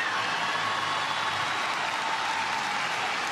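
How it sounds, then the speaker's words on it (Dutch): Stadium crowd applauding steadily at a women's international football qualifier in Tallinn, a dense, continuous wash of clapping and crowd noise with no break, moderately loud and fairly distant. "En dus stijgt er een applaus op in dit stadion."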